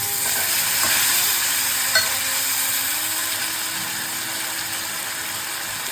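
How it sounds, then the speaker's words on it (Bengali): Ginger paste fries in a pan for a vegetarian Bengali poppy-seed dish, a soft steady sizzle with a few light stirring clinks and a low background hum. "এবার আমি আদা বাটা দিয়ে দিলাম।"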